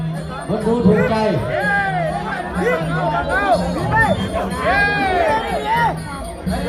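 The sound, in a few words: crowd cheering at a Thai boxing match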